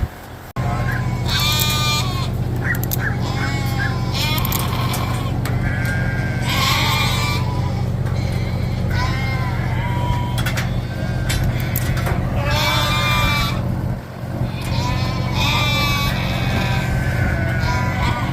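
Ewes and lambs bleat repeatedly in a narrow 10-foot farm alleyway during worming and vaccination. Overlapping calls sound close and loud over a constant heavy engine-like drone.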